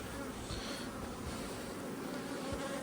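Honeybees swarming thickly around an apiary hive, a dense continuous buzz that stays steady and fairly quiet throughout, with no talking.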